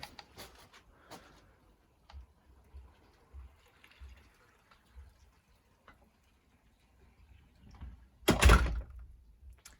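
A polished nickel door closer, adjusted for extra power, draws a door shut with a faint creak and soft taps, then finishes in one loud, close thud.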